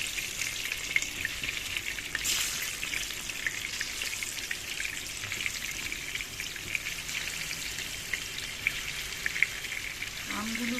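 Peeled, washed ripe homegrown mangoes are added to a hot pan for mango pickle, a steady crackling sizzle with a brief louder surge as they go in.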